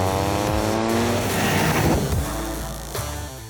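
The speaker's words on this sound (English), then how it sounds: "as we approach this corner, we're gonna brake, heel toe downshift, slowly turn in, then accelerate through the corner" Toyota GR Corolla on a race track braking hard, blipping through a heel-toe downshift and then accelerating out of the corner, loud, close engine revs that rise and fall with a brief tire squeal.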